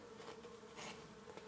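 Honeybees buzzing in an indoor hive during a January inspection: a soft, continuous, even drone with slight swells, quiet and close, with no talk.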